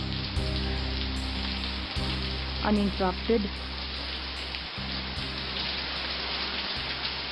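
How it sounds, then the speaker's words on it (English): Steady, dense rain hiss fills the whole clip, with a low hum underneath and a few brief faint voice-like sounds near the middle. "this raining cats and dogs today"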